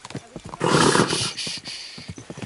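Horse in the video game Kingdom Come: Deliverance 2, giving a loud, broad neigh lasting about a second, with hoof clip-clops and rustling before and after it.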